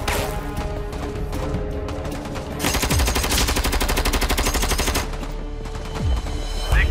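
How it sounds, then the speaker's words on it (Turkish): A battle scene with loud sustained automatic gunfire: rapid bursts rattle steadily over a rumbling background, with heavier thuds that fit rocket launchers firing. "Roket atarları da patlatın."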